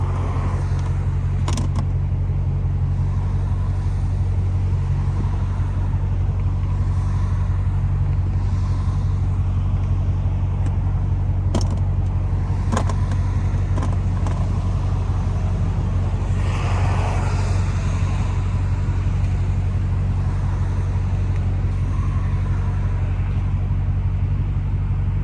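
A Dodge SRT Hellcat engine idles with a deep, steady low rumble heard from inside the car while it waits at a traffic light, with occasional faint clicks and creaks over the drone.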